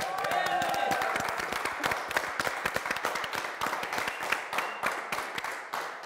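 Applause from a studio audience at a family game show, dense rapid clapping that holds steady throughout, loud and close, with voices faintly mixed in.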